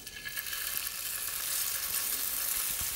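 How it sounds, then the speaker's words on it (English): A piece of salmon fries in a pan and is basted, giving a steady, bright sizzle with faint scraping and clinks under it. "And it should only take a couple of minutes to cook a piece of salmon."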